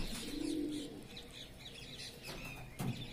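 A kabootar, a large, well-built male pigeon, coos softly and restlessly while held in someone's hands, with low throaty coos and faint rustling, close and quiet.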